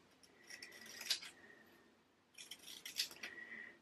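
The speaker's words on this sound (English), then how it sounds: "So let's just cut a few of these ready." Scissors snipping diamond painting sticker sheets, two faint separate bursts of crisp cutting and crinkling, close and quiet.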